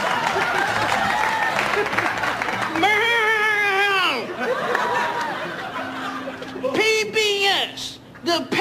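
Audience applause at a political rally in Edmonton, honouring a Canadian Navy veteran of the Second World War and D-Day, steady clapping throughout with a voice speaking over it and a brief burst of cheering near the end.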